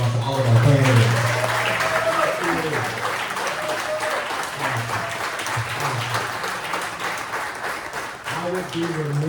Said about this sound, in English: Can we give one last round of applause to all of our candidates?